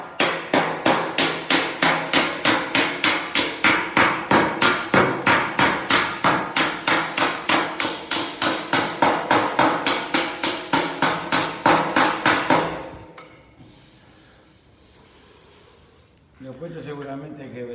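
A hammer planishing very thin sheet metal held against a dolly: a fast, even series of roughly forty ringing metallic taps for about twelve seconds, close and loud, then a quiet pause and a faint scrape.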